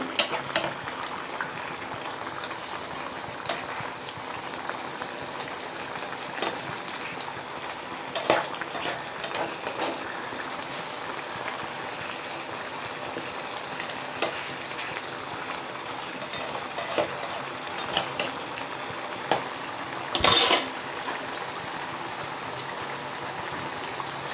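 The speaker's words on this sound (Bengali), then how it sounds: "হয়ে গেছে এবার একটু নেড়ে দেবো" Ingredients for a Bengali batasio fish curry sizzle in a pan, a steady frying hiss with occasional scraping stirs, and a brief loud clatter near the end, close up with no voices.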